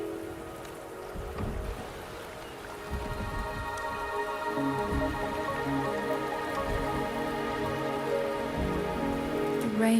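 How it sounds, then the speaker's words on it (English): Rain falling in the game Wuthering Waves, a steady close patter on surfaces with dripping, holding for about ten seconds under a sustained musical tone, with no speech. "The rain is subsiding, and the sky will soon clear."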